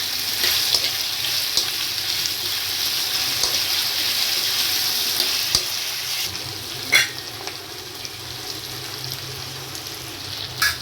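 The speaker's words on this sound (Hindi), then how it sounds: "थोड़ा अदरक लहसुन का पेस्ट डाल रही हूँ, पेस्ट को भी साथ में ही पकाएंगे इसके" Ginger garlic paste sizzling in a kadai oil for kadai paneer, a steady close frying hiss with faint stirring clinks throughout and no talking.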